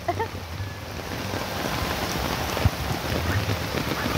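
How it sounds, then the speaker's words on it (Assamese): Heavy rain pours steadily onto surfaces outdoors at a university campus in Dibrugarh at night, a dense continuous hiss with a low rumble and an occasional louder thud. "কিমান সাংঘাতিক বৰষুণ"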